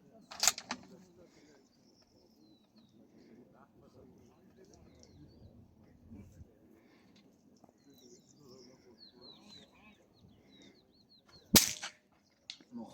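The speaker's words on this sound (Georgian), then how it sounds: "პირველი გასროლა 200 მეტრზე." Two sharp .22 LR rimfire rifle shots at an outdoor steel gong match, the first a brief crack near the start and the second louder near the end, with quiet outdoor ambience and chirping birds between.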